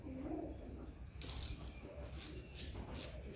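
A bolt being wound in by hand on a rusty Mk1 Ford Escort panel van, giving a series of short ratcheting clicks in bursts over a steady low background, close and fairly quiet.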